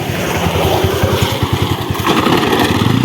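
A motorcycle engine runs loud and close, its rapid low thumping pulse steady with slight rises in revs throughout.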